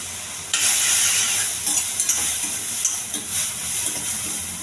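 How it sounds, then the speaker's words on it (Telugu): Chilli powder and turmeric are stirred into hot cooking water left from boiling, likely moong dal. A soft bubbling hiss is broken by a few scraping stirs nearby, with no voices. "ఈ వాటర్లో మొత్తం కారం, పసుపు అంతా కలిసేలాగా కలుస్తూ ఉండాలి"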